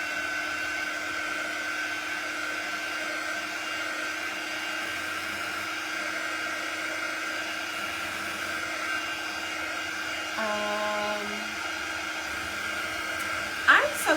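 A handheld dryer blowing to dry paint on a craft mason jar, a constant steady whine with a tonal hum running throughout, a brief beep near the end, heard alone.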